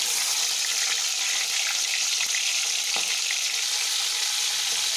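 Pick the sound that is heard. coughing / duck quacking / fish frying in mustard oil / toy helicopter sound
fish frying in mustard oil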